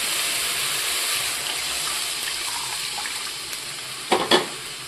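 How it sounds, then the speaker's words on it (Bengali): Water poured into a sizzling pan of coriander and spices for a pabda fish curry, a steady hissing wash that fades slightly before two sharp splashy bursts near the end. "এবার আমি জল দিয়ে দেব।"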